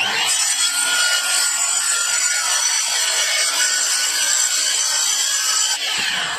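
A saw cuts through a quarter-inch sheet of plywood in a steady, continuous rasping run that lasts several seconds close to the mic, then stops abruptly near the end, with no one talking.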